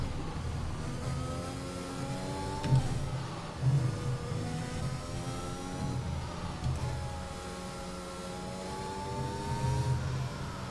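Formula 1 car engine in the F1 2021 racing game, a steady high whine with rising and falling pitch through gear shifts, continuous and fairly loud with no talk.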